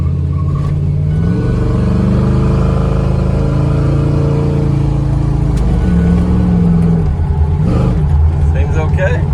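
Car engine with a built Turbo TH400 automatic transmission revving up through the gears, a loud close drone rising and dropping as it shifts, with a voice talking over it.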